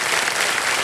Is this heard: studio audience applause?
yes